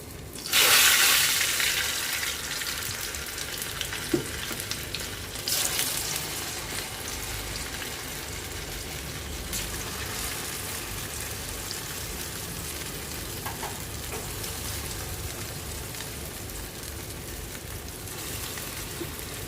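Mysore bonda batter balls deep-frying in hot oil, a steady close sizzle and crackle that flares loudly as each ball drops in, then settles into a continuous bubbling hiss.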